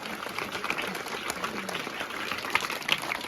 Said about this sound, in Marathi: रमाई महिला मंडळासाठी एकदा जोरदार टाळ्या होऊन जाऊ द्या